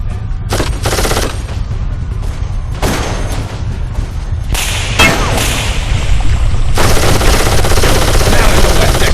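Gunfire in the PC video game Darkest of Days, loud close bursts of rapid automatic shots and single cracks separated by short pauses, ending in a sustained volley.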